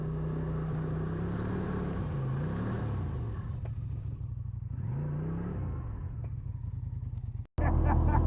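A snowmobile engine drives up a snowy road with a steady mid-pitched drone that rises and falls as it climbs. The engine cuts out briefly near the end, then starts again louder.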